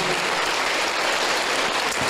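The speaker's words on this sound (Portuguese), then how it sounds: "Vamos dar um aplauso para ele, que merece, né?" A church congregation applauds during a worship service, dense steady clapping that holds at an even level throughout with no voices standing out.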